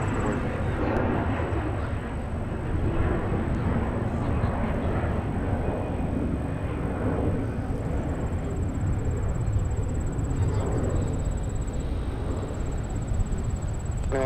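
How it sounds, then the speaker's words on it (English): A Delta airliner departing Minneapolis–St. Paul airport, a broad continuous low engine roar holding steady throughout, distant rather than overhead, with a thin constant whine above it and no voices. "Now departing Delta"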